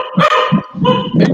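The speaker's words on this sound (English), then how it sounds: "Whose dog is that?" A dog barks several times in quick succession, loud and close, at an indoor blindfolded baking contest event, with the barks standing alone and no talk over them.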